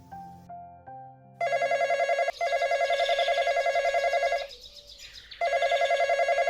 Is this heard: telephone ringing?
yes